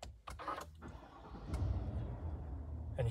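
A 2023 Cadillac Escalade 4WD Sport with push-to-start ignition fires up in a brief close cranking burst that settles into a steady low engine idle, heard alone without talk.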